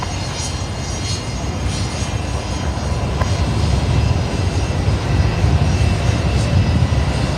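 An Alliance Fokker 70 jet arriving at Brisbane Airport at night gives a continuous loud engine roar with deep rumble that grows slightly stronger toward the end.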